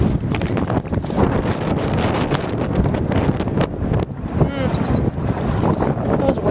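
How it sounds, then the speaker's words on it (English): Waves slap and wash against a boat out on a lake in Minnesota, a continuous choppy splashing mixed with heavy wind buffeting the microphone, loud and close, with a brief bird-like chirp near the end. "Waves."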